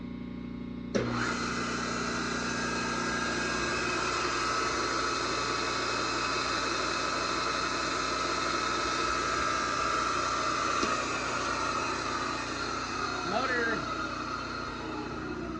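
A Solberga SE1235 drill press motor runs on an inverter, giving a steady mechanical hum with tonal whine that holds for the whole stretch, starting abruptly near the beginning, with a brief chirp late on.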